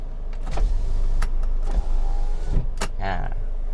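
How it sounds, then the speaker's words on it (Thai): Power windows on a 2005 Toyota Vios S run in several short motor whirs, each window rising or dropping in turn inside the car, close and fairly loud, with someone speaking between them. "มาดูกระจกไฟฟ้ากันบ้างนะครับ"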